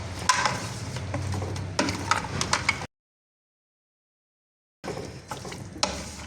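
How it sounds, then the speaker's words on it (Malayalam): Rice cooking with cashew nuts and raisins, stirred in a pan with a continuous sizzle and scraping, clinking strokes, cut by about two seconds of silence before the stirring resumes. "ഇനി ഇതിലേക്ക് കുറച്ച് കാഷ്യൂനട്ട്സും ഉണക്കമുന്തിരി ഇട്ട് കൊടുത്ത് നന്നായി മിക്സ് ചെയ്തെടുക്കാവേ"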